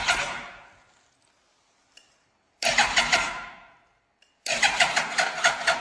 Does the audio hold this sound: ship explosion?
no